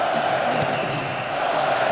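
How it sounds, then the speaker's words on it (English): A stadium crowd roars steadily at a World Cup match in PES 2008, a dense, unbroken wall of cheering that stays loud from start to finish. "Crowd are roaring themselves hoarse."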